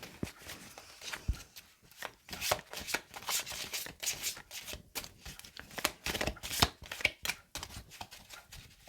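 Oracle cards being shuffled by hand, a quick run of crisp riffling and slapping bursts repeating steadily throughout, close and fairly quiet with no talking.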